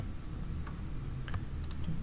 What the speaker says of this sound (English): I'm just holding Control and clicking.